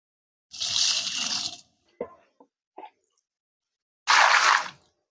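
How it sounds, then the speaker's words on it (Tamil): Fermented water is poured around the roots of a grape vine in two short splashing bursts, with a few small knocks and handling noises between them. "இந்த ஃபெர்மெண்டட் தண்ணியை எடுத்து நாம் இப்போ இந்த வேரை சுற்றிலும் ஊற்றி விடுவோம்"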